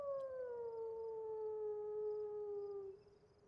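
Wolves howl in the DayZ video game: one long, sustained howl that slowly falls in pitch and holds steady for about three seconds before cutting off and fading. No one speaks.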